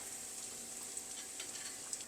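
Spicy cheese cutlets fry in a pan over a medium flame, giving a faint, steady, hissing sizzle with occasional small pops and crackles, and no voices.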